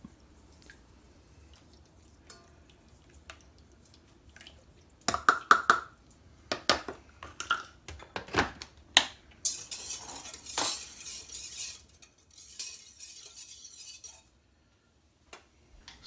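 Yeast is stirred into liquid in a bowl for white bread dough, heard as faint clinks and scrapes of a utensil against the bowl with splashy bursts in the middle, close by, after a quiet start.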